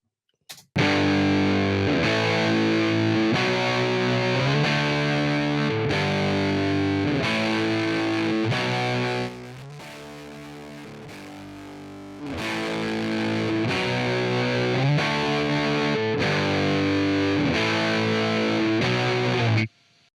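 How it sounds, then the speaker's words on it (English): A music track runs through an Empirical Labs Big FrEQ EQ plugin with its finisher cranked all the way up, giving heavy, saturated distortion. It plays loud and continuous, dips quieter near the middle, then returns full before stopping abruptly. "So obviously when we crank it up all the way, we get into a lot of distortion."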